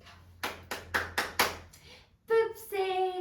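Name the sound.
hands clapping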